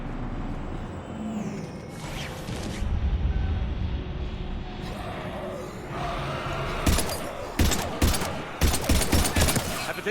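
Gunfire in the video game Mass Effect 3: rumbling battle ambience builds into rapid bursts of automatic fire and sharp shots in the second half, loud and close.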